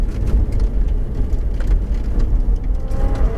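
A Ferrari 488 GTB on a racetrack gives a steady, loud, low engine roar with dense road and wind rumble, heard alone without talk.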